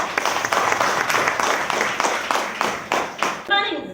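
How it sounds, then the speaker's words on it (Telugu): A crowd at a women's empowerment meeting claps in rhythmic, unified bursts, roughly one beat every half second, fairly loud, ending abruptly before a short tonal tail. "సో తనకు మనకు గ్రాండ్గా ఒకసారి క్లాప్స్ ఇవ్వండి"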